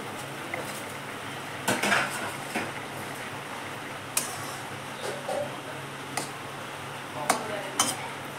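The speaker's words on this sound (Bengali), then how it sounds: "ঢাকনাটা উল্টিয়ে দেখি সিদ্ধ হয়েছে কিনা" Metal pot lid lifted off a simmering potato and eggplant curry: a few sharp clinks and clatters of metal on metal, spaced irregularly over a low kitchen background.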